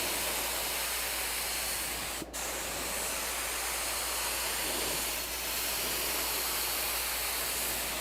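Primer sprays continuously in a temporary paint booth set up inside a shop, a loud, steady, broad hiss that runs unbroken throughout, with one brief sharp tick partway through.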